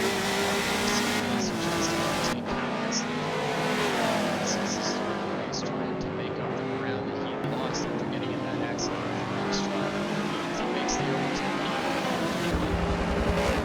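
Race cars at Laguna Seca howl past the start-finish line in a dense, continuous engine roar with shifting pitch, loud and close, while a commentator talks over the noise throughout.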